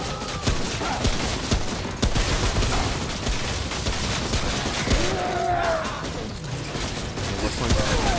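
Rapid bursts of gunfire from the video game Remnant from the Ashes, dense and continuous over a busy game soundscape, with someone talking faintly in between.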